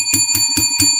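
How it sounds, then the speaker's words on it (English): A bell rings four times on a sports talk show: bright, evenly spaced metallic dings, each with a short ringing tail, loud and close with no talk over them. "Let's ring the bell"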